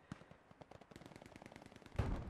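Gunfire in the World War II shooter Hell Let Loose, a steady rapid string of distant machine-gun shots in quick rhythm, faint, ending with a louder nearby burst.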